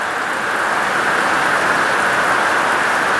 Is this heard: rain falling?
yes